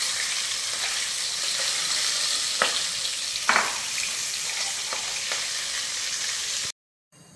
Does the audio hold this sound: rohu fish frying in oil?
yes